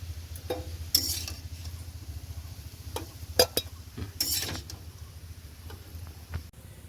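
Chowmein ingredients fry in a pan during village cooking on a rainy day, heard as a low steady sizzle broken by sharp metallic scrapes and clanks of a spatula stirring, with no talk.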